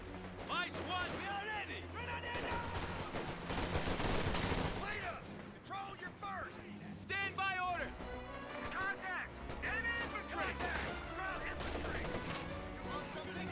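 Grenadier rifle fire in a Company of Heroes 2 battle, rapid overlapping shots and bursts dense through the clip, loudest around the middle, under a continuous commentating voice.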